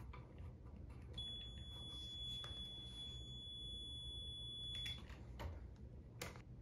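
A multimeter gives a continuity test beep on an A/C unit's run wire: one steady, faint tone lasting several seconds over a quiet background hum.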